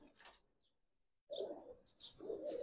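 Pigeons cooing close by in a loose pair, with soft, throaty bursts after a brief quiet gap and light chirps above them, with no talk.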